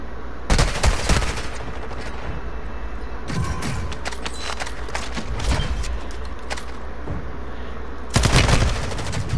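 Pistol gunfire from the battle royale game Warzone comes in several bursts of rapid sharp shots, loud and close, separated by quieter stretches of lighter pops and background rumble.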